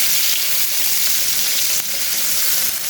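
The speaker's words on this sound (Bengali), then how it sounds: "আমি টাকি মাছটা একটু কড়া করে ভেজে নিই।" Taki fish fry hard in hot oil, a dense, steady, close sizzle and crackle with slight swells in intensity and no voices.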